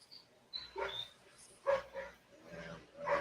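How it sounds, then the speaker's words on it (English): Dogs bark in the distance in a few faint, scattered bursts, with quiet gaps between them. "Okay, I hear the dogs now."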